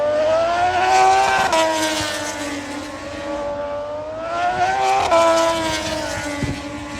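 Moto2 intermediate-class racing motorcycles at full throttle during qualifying at Catalunya, engines screaming as bikes pass close, pitch rising and falling with brief gear-shift dips, loud and continuous.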